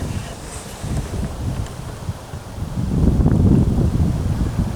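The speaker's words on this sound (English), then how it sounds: "the wind is cutting across into that far corner" Gusty wind blows across open water during a club water session, a steady broadband rush with buffeting on the microphone that swells louder in the last couple of seconds, with no voices.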